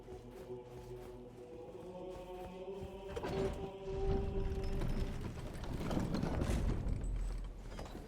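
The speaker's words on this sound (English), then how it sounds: "After a quick elevator ride" An elevator ride in Elden Ring: a steady mechanical grinding and rattling of gears and platform machinery, with sustained tones at first and a rougher, louder rumble building in the second half.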